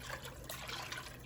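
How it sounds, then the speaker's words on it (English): Water is poured into a soup pot in a home kitchen to thin rich chicken stock, a faint, brief steady trickle and splash with no talking. "We'll go in with half that of water."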